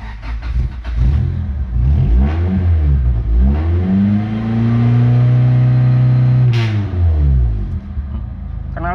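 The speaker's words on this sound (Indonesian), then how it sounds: "Knalpotnya sudah diganti pakai racing, masih cakep, suaranya ngebler bosku." A car fitted with an aftermarket racing exhaust revs up and holds a deep, rumbling roar for a few seconds, then drops back to idle. The engine is loud and close, and a voice speaks briefly underneath.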